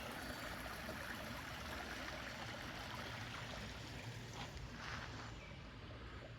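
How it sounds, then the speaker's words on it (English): A woodland stream rushes steadily, a continuous broadband wash of flowing water heard fairly close and alone, with no voices, holding an even level throughout. "Love the sound of rushing water."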